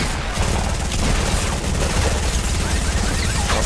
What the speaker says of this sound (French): J'étais au corps à corps sur lui avec mon pistolet mitrailleur et les balles ne touchaient pas.